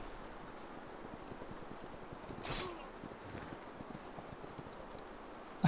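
Soft, rapid hoofbeats clip-clopping continuously at low volume in the video game Humankind, with a brief whooshing burst midway and a sharp click at the end.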